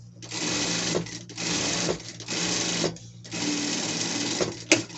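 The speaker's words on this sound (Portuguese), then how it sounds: "E vamos passar uma costura aqui embaixo, aqui" A sewing machine runs a seam along the bottom of a costume piece in four steady bursts of close, loud stitching separated by short pauses, with a brief knock near the end.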